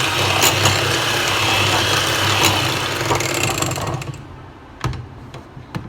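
An electric hand beater whirs through the wet ingredients for banana bread, a steady mechanical motor drone for about four seconds before it cuts off, followed by a few sharp clicks.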